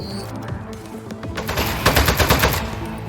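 Rapid automatic gunfire from a video game fired with the controller's right trigger, bursts of loud clattering shots building in density toward the end, with no talking.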